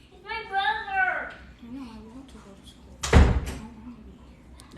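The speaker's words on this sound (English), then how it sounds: "Shut my door." A door slams shut indoors during a tense family argument, one sharp loud bang after a stretch of raised voices, with talk continuing faintly afterward.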